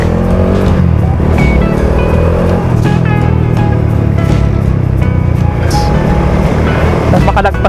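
Dense road traffic heard while riding a Dominar 400 motorcycle in heavy post-typhoon congestion from Naic to Carmona: a constant loud wash of engines and road noise with passing vehicles and occasional horn-like tones.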